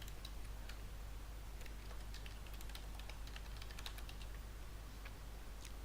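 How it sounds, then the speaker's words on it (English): Quick, irregular typing on a computer keyboard, soft clicky keystrokes tapping steadily throughout over a low constant hum. "So I'm going to put here my passphrase."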